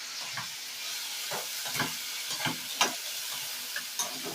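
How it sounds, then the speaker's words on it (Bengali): Ginger garlic paste, onion and tomato sautéing in a pan, a soft steady sizzle broken by a string of scraping stirs, close and moderately loud, with no talking. "আদা রসুন বাটা, পেঁয়াজ আর টমেটো একসঙ্গে একটু কষিয়ে নেব।"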